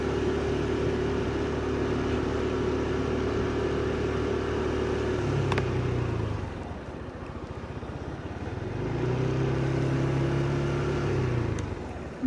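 A car driven by a learner hums along with a steady engine drone, easing off midway and then rising again as it gradually speeds up, with no one talking over it.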